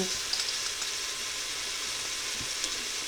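Garlic and onions fry in a Cosori TwinFry air fryer with a steady, even sizzle and soft hiss that holds at a constant level, close by, with an occasional faint tick.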